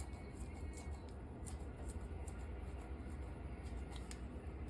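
Quick repeated snips of kitchen scissors cutting parsley, a series of short crisp clicks over a constant low background hum.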